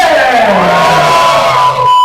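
Comedy club audience at a stand-up night cheering, whooping and yelling together, a loud sustained crowd roar with rising shouts that cuts off abruptly near the end.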